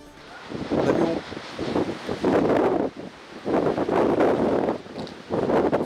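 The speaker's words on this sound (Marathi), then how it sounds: "सोसाट्याच्या वाऱ्यासह नवी मुंबईमधील अनेक परिसरामध्ये सध्या पाऊस कोसळायला सुरुवात झालेली आहे" Strong gusty wind buffets the microphone during a rainstorm in Navi Mumbai, roaring in long surging waves with brief lulls between gusts, loud and close, with no voices.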